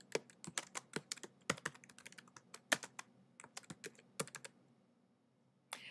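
Rapid, uneven keystrokes on a computer keyboard as a heading is typed, close and crisp, in short bursts with brief pauses, then a lone final tap after a gap.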